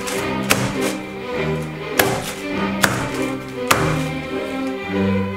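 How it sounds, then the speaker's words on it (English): A heavy frying pan whacks meat covered in cling film to flatten it, giving four sharp, separate thuds spaced roughly a second apart over a steady background hum. "taking something heavy, frying pan like so, and just whack it, okay? Give it a good old bash."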